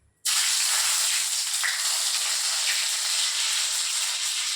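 Mustard seeds, curry leaves and dried chillies drop into hot oil in a kadai, bursting into a loud, sudden, steady hiss and sizzle that holds close and even to the end.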